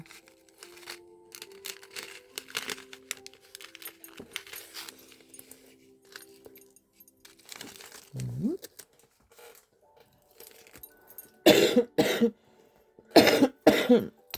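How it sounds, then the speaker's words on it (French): Several harsh coughs in two close bursts near the end, following quieter rustling and faint clinking, with a voice speaking earlier. "Excusez-moi, mais je tousse encore."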